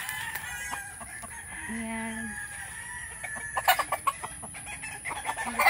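Fighting cocks on a farm give short, close clucks and a brief crowing call, with rustling and someone talking quietly in the background.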